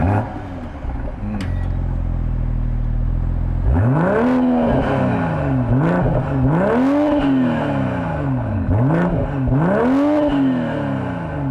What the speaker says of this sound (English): let's go ahead and fire up the engine, hear how it sounds